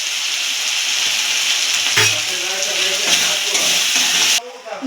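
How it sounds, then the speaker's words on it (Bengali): Katla fish pieces being stirred in a frying pan for a doi katla curry with salt and nut paste, a steady bright sizzle with scraping stirs, a louder clatter near two seconds and a drop in sizzle at the end. "ভালো করে নাড়াচাড়া করে নেব"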